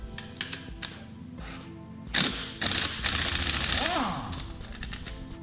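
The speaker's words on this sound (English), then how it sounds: "got my 17mm socket, got my 1/2 inch impact, and we're going to remove this nut." A 1/2-inch impact wrench with a 17mm socket hammers at an axle nut on a Yamaha TTR 125 dirt bike; short ticks lead into a loud, fast rattling burst that sustains for a few seconds.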